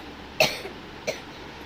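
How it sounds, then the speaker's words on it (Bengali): A sick child at home coughs twice, a sharp close cough followed after a short pause by a second, weaker one, against a quiet room. "কাশি হচ্ছে খুব"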